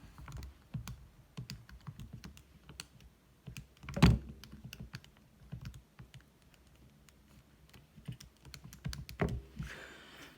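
Someone types on a computer keyboard close by, entering equations in irregular bursts of light key clicks, with a few heavier thunks among them and no talking.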